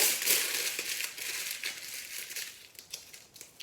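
Tin foil is crumpled into a small ball by hand, a close, quiet crinkling that is busiest at first and then thins into a few sparse crackles, with no one speaking.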